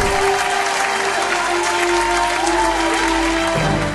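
A studio audience at a gospel singing show gives loud, sustained applause for the singer, a continuous wash of clapping with a steady hum beneath it and no talk.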